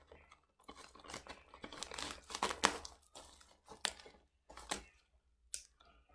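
A book package being cut open and unwrapped, with close, quiet bursts of crinkling and tearing packaging material in an irregular rhythm and short pauses between them.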